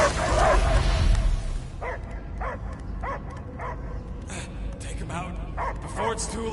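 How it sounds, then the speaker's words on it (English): A dog barks and yips repeatedly in short, evenly spaced bursts at moderate distance, with a louder rumbling noise at the start and people talking in the background. "I hear only barking."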